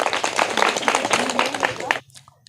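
A classroom audience of students claps loudly for a pupil's correct quiz answer, a dense burst of applause lasting about two seconds before cutting off abruptly into near silence.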